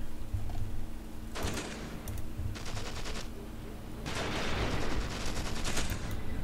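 Bursts of wartime gunfire from the Achtung Panzer: Operation Star strategy game, with rapid machine-gun volleys in several clusters over a rumbling battlefield background.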